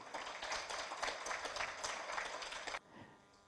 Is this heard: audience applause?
yes